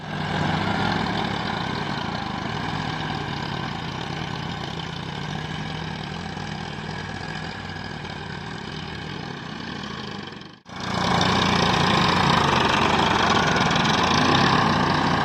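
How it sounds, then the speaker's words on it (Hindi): A farm tractor engine runs steadily and close by, a continuous mid-pitched rumble that cuts out briefly for a moment before resuming just as loudly. "आप भगवान का नाम लेते हैं और ट्रैक्टर का आगे चलाने का कार्य स्टार्ट करते हैं एक बार"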